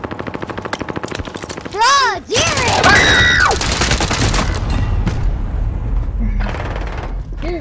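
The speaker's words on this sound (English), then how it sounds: "Custom assault rifle here" An assault rifle fires in Call of Duty, with rapid bursts of automatic gunfire and loud booming shots in a busy game mix. A player speaks briefly over the shooting.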